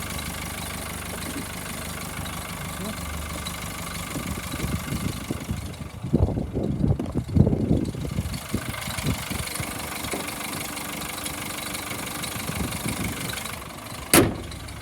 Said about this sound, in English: Engine sounds fine, a little bit of a belt squeak there from the auxiliary belt.